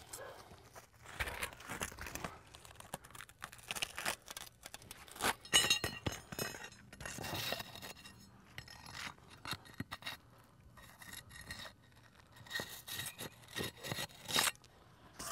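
A hook knife slices asphalt roof shingles while flashing is being fitted, producing close, irregular bursts of rasping, scraping cuts separated by short pauses.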